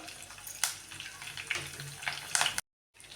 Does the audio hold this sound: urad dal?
yes